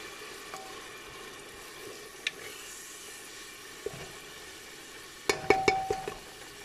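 Tomatoes being stirred in a cooking pan while making Indian food: faint, quiet scraping and soft sizzling, then a short burst of sharper clinks and taps from the spoon against the pan near the end.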